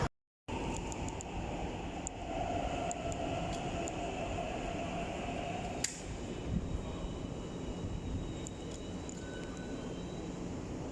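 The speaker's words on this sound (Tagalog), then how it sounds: "Ito kami sa may MTR." A Hong Kong MTR subway train at a station gives off a steady, moderately distant rumble and hum with faint tonal whines and a brief sharp clank midway, and no talking is heard.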